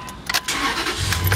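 A truck engine cranks and fires up, with a short burst of starter noise followed by a steady low engine rumble close by, and no talking.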